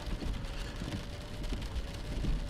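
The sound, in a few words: rain falling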